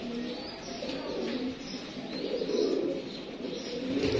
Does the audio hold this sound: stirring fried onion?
no